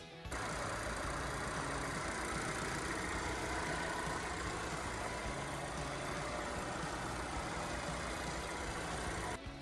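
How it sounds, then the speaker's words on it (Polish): A petrol Volvo XC60 2.0 T4 engine with about 97,000 km on it idles with a steady, even hum that stays constant throughout, with no other sounds on top. "Posłuchajcie, jak pracuje w nim silnik."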